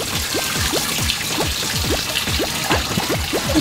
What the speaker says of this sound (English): Little bit of water.